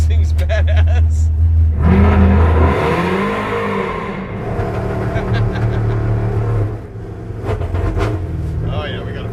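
The engine of a nitrous muscle truck revving loud and close with a deep, rough drone, sagging and stumbling at part throttle, with people talking over it.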